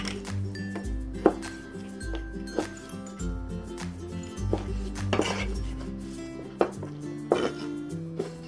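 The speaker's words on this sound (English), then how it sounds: "Okay, next let's cut the chicken." Chicken is cut into one-inch cubes on a kitchen board, with knife taps, clinks of utensils and dishes, and a few sharper knocks in an uneven rhythm, close by with no talk.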